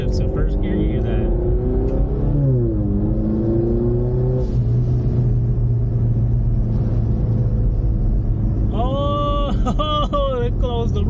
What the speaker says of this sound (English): one is downshifts in first gear. You hear that?